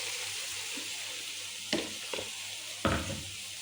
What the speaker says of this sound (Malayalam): സവാളയും പച്ചമുളകും ഒരു പട്ടയും ഗ്രാമ്പും ഒരു ഏലക്കായും ഒക്കെ ഇട്ട് ചെറുതായിട്ടൊന്ന് വഴറ്റി